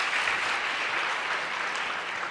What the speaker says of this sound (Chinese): 掌声鼓励一下，谢谢。